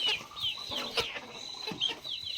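Many free-range village chickens roosting on bamboo poles at night, clucking and chattering together, a continuous busy flock sound, moderately close, with no talking.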